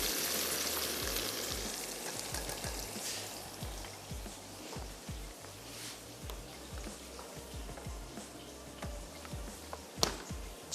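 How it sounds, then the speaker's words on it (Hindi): Onions frying in a pan for chanay ki daal gosht, with steady sizzling and repeated scraping stirs of a utensil against the pan, close and alone with no talking. "थोड़ा सा प्याज को स्टर करते जाते हैं"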